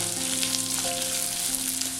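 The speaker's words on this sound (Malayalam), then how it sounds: "ഇതൊന്ന് നന്നായിട്ടൊന്ന് വഴറ്റിയെടുക്കണം" Chopped green chili and onion sautéing in a pan for a vegetable chicken curry, a steady close sizzle and fry with faint stirring scrapes, no talk.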